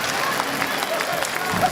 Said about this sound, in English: Antoine Roussel gets the stick claps from his club